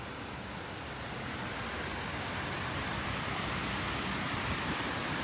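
Waterfalls at the World Trade Center memorial in New York City, a dense unbroken roar of falling water, steady and fairly loud with no speech over it.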